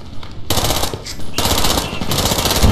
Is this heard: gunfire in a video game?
yes